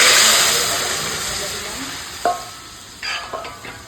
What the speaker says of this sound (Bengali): এখন ডালটা সাঁতলে নেবো এখন ডাল তো তার জন্য তেলের ওপর দিয়ে দিলাম তেজপাতা শুকনো লঙ্কা আর পাঁচফোড়ন